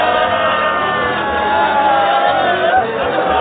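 A large crowd roars and shouts steadily throughout a birthday celebration, a dense, loud, continuous wall of cheering voices.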